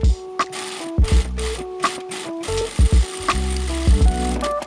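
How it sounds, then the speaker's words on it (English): A sewing machine stitches along the curved edge of a bag pocket in short mechanical bursts, with a rapid close clatter that starts and stops several times and small pauses between runs. "Now sew along the entire curved edge, staying close to the edge to hold the pocket in place."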